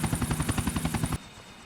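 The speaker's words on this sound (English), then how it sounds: "Yeah, this is the same helicopter model." Helicopter from GTA: The Ballad of Gay Tony, heard as a fast, loud rotor chop with rhythmic thumping pulses that cut off abruptly, leaving a faint low background hum.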